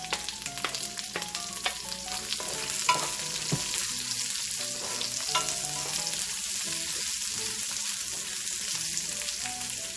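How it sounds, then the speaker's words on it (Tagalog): Onions cooking in oil after garlic has turned golden brown, giving a steady bright sizzle with a soft low hum under it and scattered light clinks of a utensil, no voices. "lutuin muna natin ng bahagya ang ating sibuyas sa mantika"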